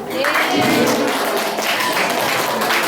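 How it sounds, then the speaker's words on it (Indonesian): A high school class gives a round of applause during a group Indonesian language practical exam, a dense, even wash of clapping that stays fairly loud and steady throughout. "Tepuk tangannya mana?"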